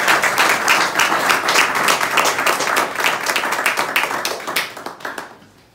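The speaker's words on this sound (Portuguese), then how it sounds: "para a qual peço uma salva de palmas" Audience applause at Casa de Angola in Lisbon honouring a journalist's 31-year career, loud, brisk clapping from a roomful of people that holds steady for several seconds before tapering to a few last claps and silence.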